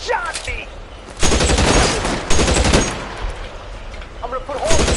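Gunfire in the video game L.A. Noire, a loud burst of rapid shots filling the middle of the clip, with further scattered shots before and after, while a voice shouts briefly.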